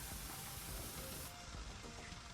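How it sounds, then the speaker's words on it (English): Pressure washer jet spraying water on a train in the video game Power Wash Simulator, a continuous harsh hiss that cuts out partway to a quieter, thinner spray. "I can spray this as water, right?"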